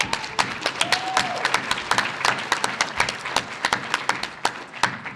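At a healthcare summit, an audience claps in a lively burst of individual, distinct hand claps, fairly close and crisp, sustained throughout without talk.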